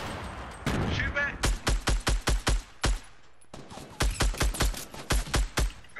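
Gunfire in a Fortnite match, several strings of rapid sharp shots in quick rhythmic bursts, loud and close, with an excited voice shouting briefly at the start.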